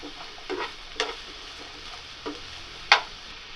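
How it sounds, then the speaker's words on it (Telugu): Radish pieces frying in a pan, shown as a low, quiet sizzle with a few soft stirring clicks and scrapes, one sharper clatter near the end. "ఆ ముల్లంగిని అందులో వేసి వేయించుకోవాలి దోరగా"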